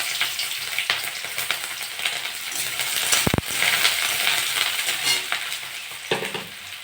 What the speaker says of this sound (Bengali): তেলটা গরম হয়ে গেছে, পেঁয়াজ কাঁচা লঙ্কা দিয়ে দেবো।